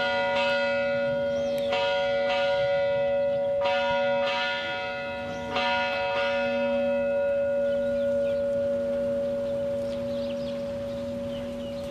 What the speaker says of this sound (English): The bell will be rung